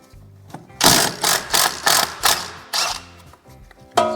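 A wrench works the two 21 mm nylon-insert nuts off a ball joint on a 1998-2011 Ford Ranger, giving a series of about six close, rhythmic ratcheting bursts separated by short pauses.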